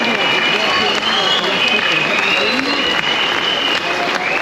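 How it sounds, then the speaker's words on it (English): A large outdoor crowd in London claps and cheers steadily throughout, dense sustained applause with voices shouting amid it, loud and close. "Please give her a massive round of applause."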